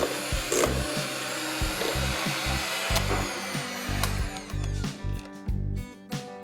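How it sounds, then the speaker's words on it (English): Electric whisk beating cream cheese frosting for red velvet cake, a loud whirring motor that stutters and chops as the beaters knock and drag through the thick mixture, close up. "I'm going to give it a whisk"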